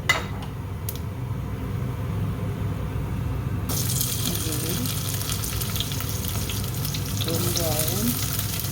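Onions added to hot oil with mustard seeds, fennel and cumin in a pan, a steady loud sizzle that starts abruptly after a quiet moment and continues with stirring.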